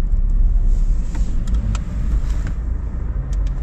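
Car traffic on a road in Ibiza, Spain, a close, loud, continuous rumble of passing vehicles with occasional brief ticks and clatters, no voices.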